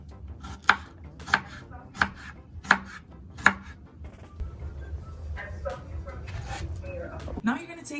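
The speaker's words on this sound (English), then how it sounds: "you want to chop up your bananas into small pieces as well" Knife chopping green bananas into small pieces for a plant-based porridge, five sharp, evenly spaced cuts on a board up close, then quieter kitchen handling sounds and low voices in the background.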